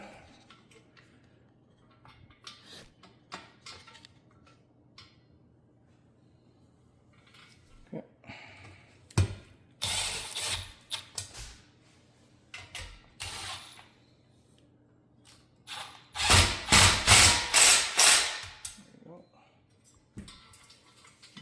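A bolt is tightened during assembly of a Vatros barstool. A wrench gives ratcheting, clicking bursts, brief at first and then a longer, louder run near the end, with quiet pauses and faint voices between them.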